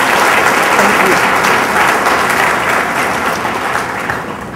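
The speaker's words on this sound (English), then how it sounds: "let's give Congressman Boyd a round of applause" A large audience applauds Congressman Boyd at a Florida gathering, dense sustained clapping that fills the space and slowly tapers toward the end.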